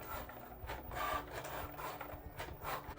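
A Cricut Joy cutting machine running quietly at close range, a soft continuous mechanical whir with light scraping and rubbing textures that swell and ease over a few seconds, no voices.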